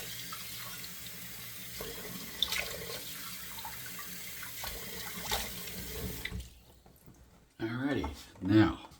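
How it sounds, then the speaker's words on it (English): Cold water runs steadily from a tap into a sink in a home bathroom during a beard shave, a continuous faint hiss that stops near the end before someone speaks briefly. "water's running cold"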